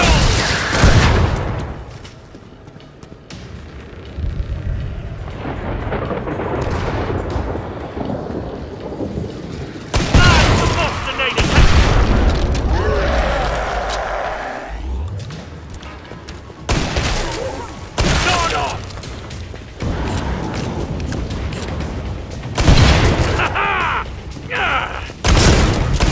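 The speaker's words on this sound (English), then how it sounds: "He shoots, he kills!" Heavy gunfire and booming explosions from the video game Killing Floor 2 on Xbox One, loud bursts and rumbling blasts recurring throughout, with a player's voice occasionally calling out over the action.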